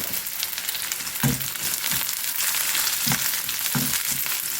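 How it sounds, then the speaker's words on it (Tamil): Chopped onion with crushed ginger and garlic frying in a pan for an egg thokku, a steady close sizzle with a few louder stirring scrapes and pops, no talking. "இந்த வெங்காயம் கூடவே இடித்து வச்ச இஞ்சியும் வெள்ளை பூண்டும் போட்டுருவோம்"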